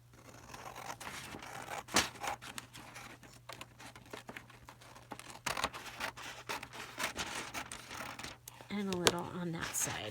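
Scissors snip a paper journal cover during hand bookbinding, a series of close crisp cuts and rustling paper crinkles, irregular and fairly quiet, with a faint steady hum underneath.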